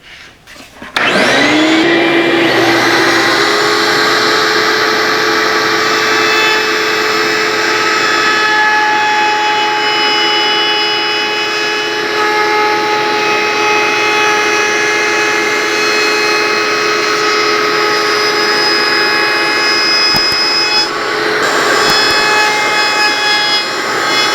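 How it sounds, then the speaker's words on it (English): A router fitted with a 1/4 inch round-over bit shapes hardwood edges, a loud, steady high-pitched motor whine that spins up at the start and holds through the cut with slight shifts in load. "Now I'm going to take a 1/4 inch round over bit and take care of all these edges"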